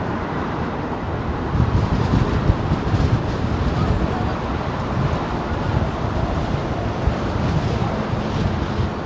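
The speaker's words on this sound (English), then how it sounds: "Direct headwind this time." Strong, gusty wind roars and buffets the microphone at London Heathrow Airport under a direct headwind. The rumble is loud and continuous for the whole stretch, with no other clear sounds.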